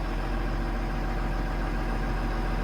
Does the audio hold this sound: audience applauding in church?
no